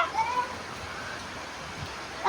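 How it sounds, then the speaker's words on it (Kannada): Heavy monsoon rain hisses steadily, a dense wash of noise, with faint voices mixed in beneath it. "ಎಷ್ಟು ಜೋರಾಗಿ ಬರ್ತಾ ಇದೆ ಮಳೆ"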